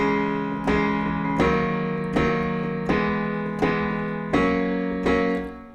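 Six sustained piano chords from a song, each struck firmly and left ringing, evenly spaced about a beat apart, played alone with no talking.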